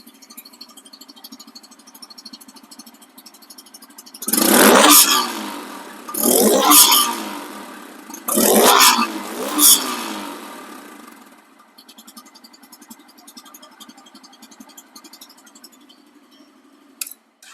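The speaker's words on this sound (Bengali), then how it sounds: "সাউন্ডটা দেখেন রান আছে ইঞ্জিনটা ইঞ্জিনটা রানিং অবস্থা আছে দেখেন সাউন্ডটা" A nearly new Bajaj Pulsar N160 ABS FI motorcycle idles with a steady ticking, mid-pitched engine note, broken by three loud revving bursts in the middle before it settles back to idle.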